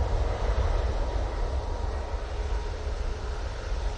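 Ryanair jet at Manchester Airport, a low rumbling engine roar that stays steady and moderately loud throughout, heard from a distance with no voices over it.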